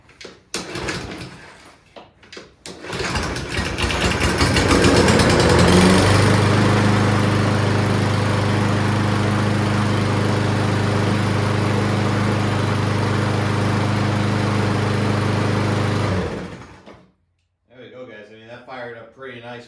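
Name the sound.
lawn mower engine starting and running in a cold garage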